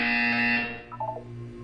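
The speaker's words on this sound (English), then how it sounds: "You will hear a buzzer." A buzzer sounds in the video game Portal 2, a loud harsh electronic tone lasting about half a second, then fading into a brief softer chime over a steady background hum.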